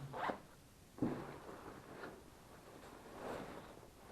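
A zipper on a four-season motorcycle jacket is worked in a few short rasping pulls, with quieter stretches between them and a faint hiss of room noise underneath.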